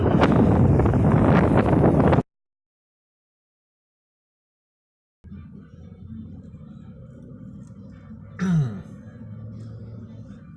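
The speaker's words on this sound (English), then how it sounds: "it's a little windy today" Steady low wind rumble buffeting the microphone, cutting out to silence midway before resuming, with a brief sharper sweep near the end.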